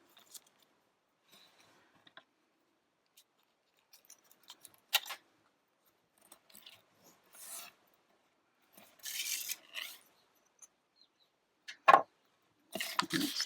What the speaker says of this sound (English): So what we need to cut now is a blue hat.